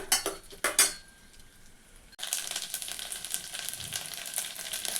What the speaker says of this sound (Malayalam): തേങ്ങാക്കൊത്തിട്ട് നന്നായി വറുത്തെടുക്കണം